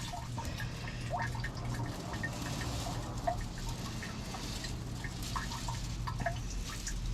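A thin trickle of water from a pump, faint and continuous, with small drips and patters scattered through it and no voices.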